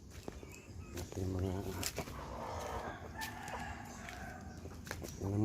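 Chickens cluck and a rooster crows outdoors, with footsteps and a person talking nearby.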